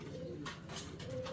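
Fancy pigeons at a breeder's farm coo softly in a faint, continuous murmur with no voices.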